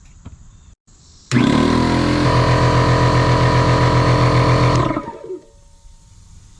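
An air compressor for a nail gun switches on and runs loudly, pressurizing its tank toward 125 psi: a sudden start into a steady, loud motor drone that lasts several seconds and then cuts off, followed by quieter residual noise.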